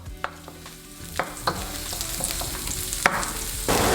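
Garlic and aromatics being sautéed for Gotong Batangas, with steady sizzling and several sharp scraping stirs of a utensil against the pan, close and fairly loud, no voices.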